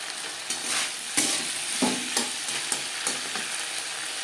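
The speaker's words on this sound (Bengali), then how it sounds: "আদাও কাঁচা পাকা লঙ্কা লাগবে কাঁচা গন্ধ যাওয়া পর্যন্ত নাড়াচাড়া করে নেবে" Chopped ginger and green chillies frying in a pan while being stirred, a steady close sizzle broken by repeated scraping and tapping strokes of the spoon.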